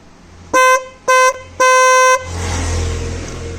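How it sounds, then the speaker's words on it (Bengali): Three loud, sharp blasts from an aftermarket horn fitted to a Bajaj Pulsar 150 motorcycle, two short toots then a longer one, bright and close, followed by a low rumbling background. "এরকম হর্ন আপনাদের পালসার 150 বাইকে ইজি ইনস্টল করতে পারেন, এবং এর আওয়াজটা খুব সুন্দর আছে"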